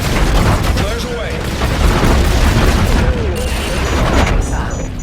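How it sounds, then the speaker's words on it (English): Flares launched from a fighter jet in Call of Duty Infinite Warfare, a dense continuous roar of bursting, crackling launches with rushing noise throughout, loud and close, with radio-style voices mixed in. "Flares away."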